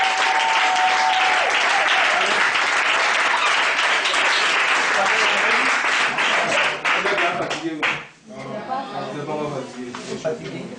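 A church congregation at a rosary prayer service bursts into loud, dense applause that runs for several seconds, then breaks off abruptly as voices and talking take over, with scattered claps continuing underneath.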